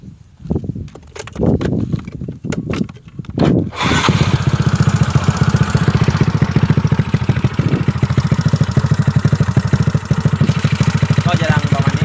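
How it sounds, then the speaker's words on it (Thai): A racing motorcycle with gold-rimmed wheels and a drilled aftermarket exhaust fires up after a few seconds of talk, then settles into a loud, steady idle with a rapid, throbbing pulse close by. "ก็เรามาฟังเสียงท่อกันนะครับ"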